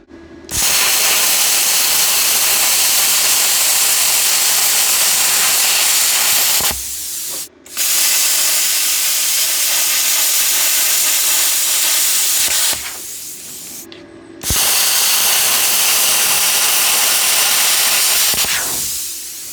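A TOOLIOM TL-50C plasma cutter slices through 1/8 inch metal with a loud, sustained hissing roar, repeated in three long cuts separated by brief gaps.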